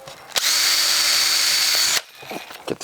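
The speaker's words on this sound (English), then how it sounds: "Edea skates, you got to drill all the way through the sole" A power drill bores through the sole of an Edea figure skate boot, a loud, steady high whine for about a second and a half that cuts off sharply, followed by quieter handling noises.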